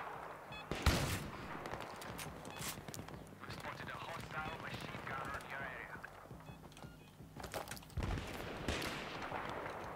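Rapid bursts of gunfire from the video game Battlefield 3 during a Rush round, with a sharp loud shot early and further volleys near the end, mixed with game noise and someone talking over it.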